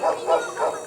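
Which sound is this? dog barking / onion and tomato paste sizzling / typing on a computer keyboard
dog barking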